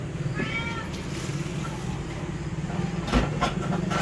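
A cat meows a couple of times, a short wavering cry near the start, over steady background rumble and some clattering noise.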